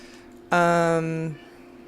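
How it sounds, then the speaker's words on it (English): A tiny cat gives one drawn-out, plaintive meow of about a second that sags in pitch at the end, fairly clear over a quiet room. "We have a tiny cat crying sadly in the background."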